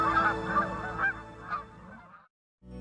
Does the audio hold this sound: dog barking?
no